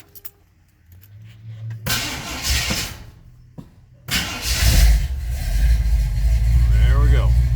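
A 454 V8 with a TH400 transmission cranks over and fires, then settles into a loud, rumbling idle, with keys jangling and a short stretch of quiet before it starts.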